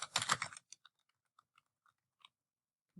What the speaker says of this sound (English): we're going to type in here Sonic Saturday